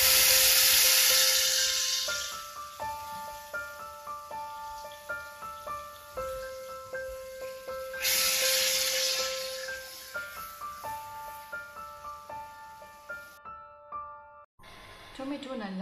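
Tomato paste frying with garlic paste gives off loud bursts of hissing sizzle that fade away and then return, under steady plucked background music.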